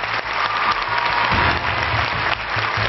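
Steady applause from a studio audience after a magic card trick by a Taiwanese magician, filling the room continuously over a low background hum and thumps, with no talking.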